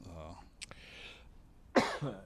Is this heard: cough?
yes